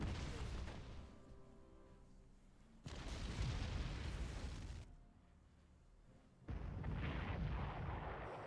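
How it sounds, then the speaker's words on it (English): Artillery gun firing in the Panzer Corps strategy game, three separate heavy booming shots spaced a few seconds apart, each followed by a rumbling decay, fairly quiet overall. "Man, that gun is still firing."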